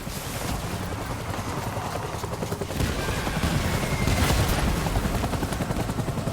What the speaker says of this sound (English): There's gunfire that side as well.